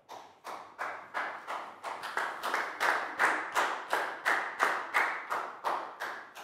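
A small group in a Year 4 classroom claps for a pupil: rhythmic, even, unison claps repeating steadily at a brisk pace, moderately loud and close, with no talking over them.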